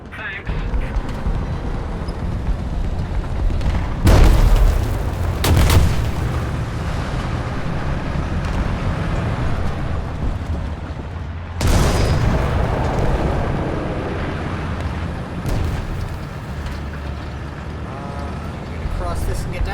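Grenades exploding in War Thunder armored vehicle combat: several loud, close booms burst out over a continuous engine and battlefield rumble.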